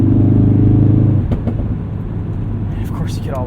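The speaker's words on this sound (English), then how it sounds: "of course you get all those pops from the exhaust" Modified Ford Focus RS with an aftermarket exhaust, driven at night, gives a loud close rumble that falls away after a second, followed by a few sharp crackling exhaust pops over a steady engine drone.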